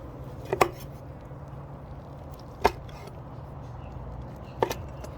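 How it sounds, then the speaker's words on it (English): Knife cutting food into thin slices for seafood skewer street tacos: three sharp, separate cuts against a board, spaced about two seconds apart, close and distinct over a low steady background hum. "We're going to go ahead and actually slice it up. Just thin little pieces."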